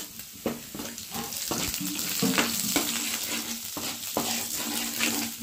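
Ginger garlic paste sizzles continuously in hot oil for a chicken curry, with a spoon scraping the pan in regular strokes roughly once a second, close by.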